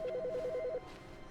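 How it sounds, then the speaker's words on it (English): A telephone in The Stanley Parable Ultra Deluxe rings with a fast warbling two-tone trill lasting under a second, fairly close, then cuts off into a quiet room tone. "Ooh, the phone's ringing again."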